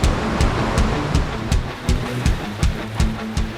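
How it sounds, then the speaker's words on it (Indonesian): Sea waves crash and sea wind blows at Apalarang cliff during a highlining outing, a steady roar of surf and gusts with repeated sharp thumps and clatters close by, no talking. "Suara deburan ombak dan tiupan angin laut merupakan bonus saat kita melakukan highlining di tebing Apalarang."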